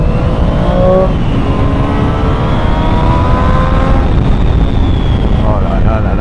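A Triumph 765 Street Triple R motorcycle engine revs loud and close, with rising and falling pitch sweeps over a steady roar, and a voice speaks over it.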